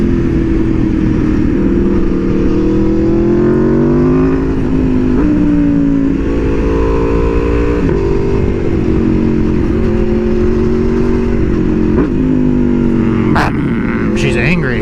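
An Aprilia Tuono V4R motorcycle accelerates hard with a quick shifter, its loud engine note rising and dropping sharply through successive gear changes, recorded close, with people talking under the roar.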